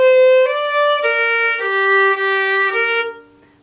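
Solo fiddle plays a short Balkan-style phrase from the Tarbukas tune, a run of bowed notes stepping downward in a steady rhythm, close and clear, with no talking.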